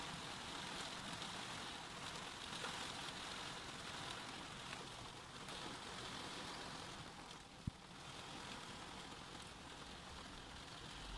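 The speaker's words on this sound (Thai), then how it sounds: "ฝนตกแล้ว" Steady rain falls through a Norwegian summer, a soft continuous hiss with no voices, broken by one brief sharp click near the end.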